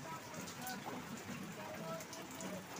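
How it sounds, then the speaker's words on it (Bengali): Steady rain pattering densely on surfaces nearby, a constant wash of drops without pause. "আর দেখুন বৃষ্টি তো কমছেই না, সারাটা দিন অঝরে বৃষ্টি।"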